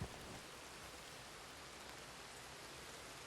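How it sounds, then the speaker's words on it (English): Rain in the video game Red Dead Redemption 2, played on PS4 during a thunderstorm, a soft, steady hiss of rainfall with no distinct drops or breaks, faint and even throughout. "The rain's there, thunder,"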